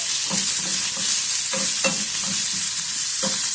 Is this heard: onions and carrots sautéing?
yes